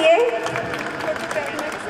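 Audience at an awards night at a resort breaks into applause, a burst of clapping that fades somewhat while a voice speaks over it.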